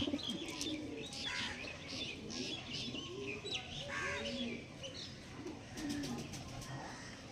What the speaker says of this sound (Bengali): ঘরোয়া পায়রা সব